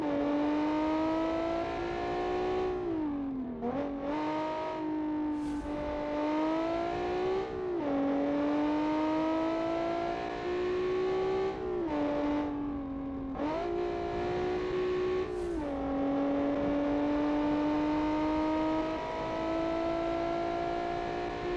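A V6 rear-wheel-drive race car engine screams continuously, its pitch repeatedly rising then dropping sharply at each upshift, loud and close with no voices.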